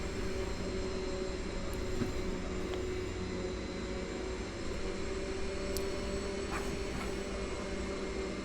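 Twin turboprop engines of a DHC-6 Twin Otter run steadily in the X-Plane 11 flight simulator, a continuous droning hum with a faint whine, even and unbroken, with no talking.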